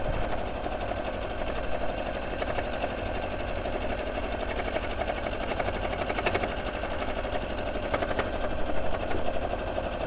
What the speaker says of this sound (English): So sewing around that curved lower edge.